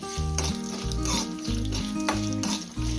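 Spices for a Tamil egg curry sizzle loudly in hot oil, a dense continuous crackle that fills the frame, with a low rhythmic tone pattern running underneath.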